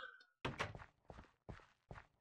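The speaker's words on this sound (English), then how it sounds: "Hearing more door action going on." Doors in Minecraft thunk and clack open and shut, with several distinct knocks arriving in an uneven sequence, close and fairly quiet, with no talk over them.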